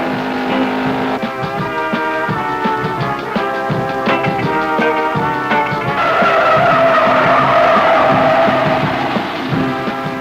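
A 1968 AMX spins in reverse on a track, its tires skidding and squealing in a loud, sustained smear of sound over engine noise, with the squeal rising and holding near the end.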